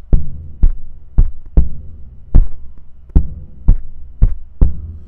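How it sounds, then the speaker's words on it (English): A bass drum is struck in a studio, nine deep, booming single hits at a loose, uneven pace, each with a short resonant tail and no talking. "that's a nice bass drum,"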